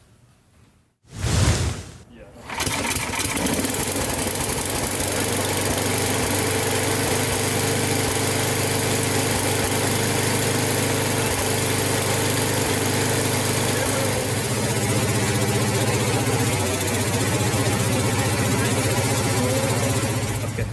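A Murray 24-inch snowblower's 8hp Tecumseh engine catches after a brief surge, then settles into a loud, steady, close-up running drone that holds unbroken to the end.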